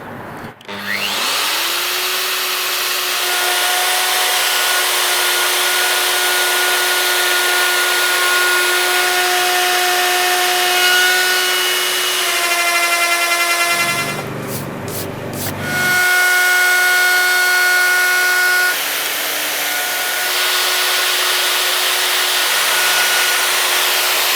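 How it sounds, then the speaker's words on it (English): A plunge router cutting mortises into wood for a DIY gate, a loud sustained high whine as it runs, dipping briefly mid-way as it lifts or repositions and then resuming, close and continuous. "So we've routed out all the mortises to create our 15mm slot."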